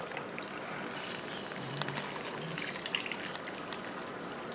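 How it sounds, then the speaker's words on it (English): Beef broth pours from a box into a pot of birria in a steady, soft liquid gush, near and fairly quiet. "And I'm going to add some more beef broth."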